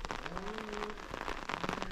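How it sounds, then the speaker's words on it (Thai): Steady rain patters and hisses over a broad wash of noise, with a faint tonal hum drifting underneath. "ฝนกำลังตกเลย"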